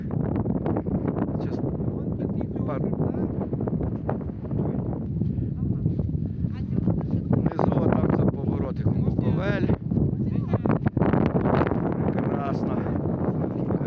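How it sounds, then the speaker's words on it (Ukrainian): Strong wind buffets a mountain summit at Hora Ploska, 1353 m, on a clear winter day, a steady roaring rush that stays loud throughout with gusty surges, while a voice talks faintly underneath. "Вітер."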